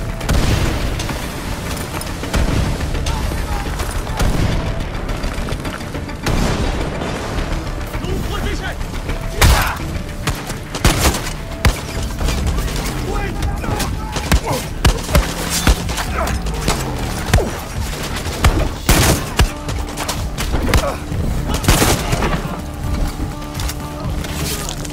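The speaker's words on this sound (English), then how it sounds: "Oh yeah, all y'all are getting pipe bombed." Pipe bombs go off in Far Cry 6 amid dense gameplay noise, a string of sharp booms and thuds scattered irregularly over a loud, busy mix, with a voice talking now and then.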